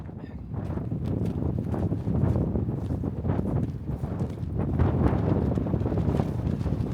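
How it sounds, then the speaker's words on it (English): Gusty wind buffets the microphone, a loud, rough roar that rises and falls continuously, with no voices. "It's a little bit windy."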